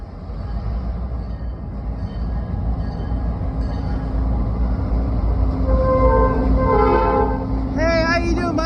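An RBMN freight train rumbles loudly past at close range in Ashland, Pennsylvania, with steady wheel and engine noise, wavering squeals and a short horn-like tone near the end.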